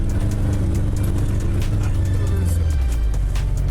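A homemade Subaru-based off-road vehicle's engine pulls away in first gear, a loud continuous low rumble with throttle pressed and pitch shifting slightly as it drives off.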